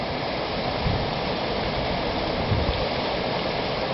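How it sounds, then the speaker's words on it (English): A dual waterfall on Desert Harbor Lake in Peoria, Arizona pours in a steady, dense rush of falling water, loud and continuous throughout with no voices. "Kind of a dual waterfall."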